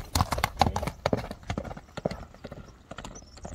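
A horse's hooves beat in a quick, irregular rhythm of sharp thuds on the ground, loud and close at first, then gradually fainter as it runs off.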